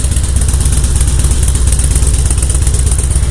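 An engine runs steadily and loudly at close range with a fast, even chugging idle and no letup, and nobody talks over it.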